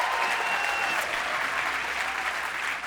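A large studio audience applauds at the grand finale of an insurance-themed reality competition, a steady dense wash of clapping held at even loudness for about three seconds.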